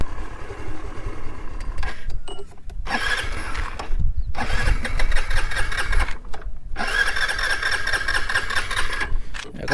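Hero Xoom 125 scooter engine being cranked with the starter in repeated bursts, several separate whirring attempts broken by short pauses, heard up close and without talk.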